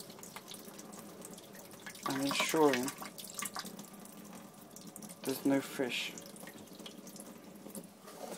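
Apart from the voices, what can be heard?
water running through a hose in a sink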